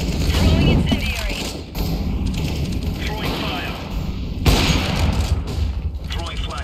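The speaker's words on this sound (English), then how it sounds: "Throwing incendiary. Throwing fire." Counter-Strike: Global Offensive match audio with an incendiary grenade being thrown: a dense, loud mix of thumps, mechanical clatter and gunfire-like bursts, with sharper flares near the two-second and four-and-a-half-second marks.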